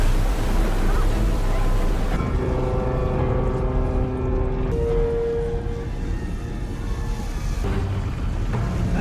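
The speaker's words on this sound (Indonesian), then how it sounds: "kapal itu semakin mendekat ke arah mereka" A ship draws closer across open sea off a beach, its low engine drone and sustained tonal hum rising over a constant wash of waves and wind, with no speech.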